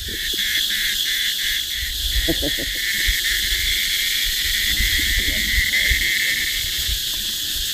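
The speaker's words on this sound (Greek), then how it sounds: "Αυτή η φασαρία που ίσως ακούτε είναι εδώ από τα δέντρα, είναι κάτι σαν τζιτζίκια." Cicada-like insects buzz in the trees of Vientiane, Laos, a loud, continuous high-pitched drone with a pulsing rhythm early on, while a few faint, brief background sounds pass beneath it.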